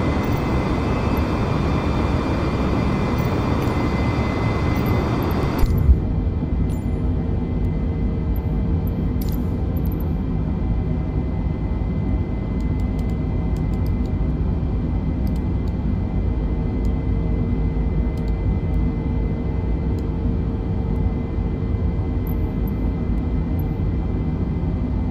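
Simulated Airbus A320 engine noise in Microsoft Flight Simulator during an Indigo take-off from Calicut to Mumbai, a loud broadband jet roar that abruptly shifts to a steadier, duller cabin hum after a few seconds and continues evenly.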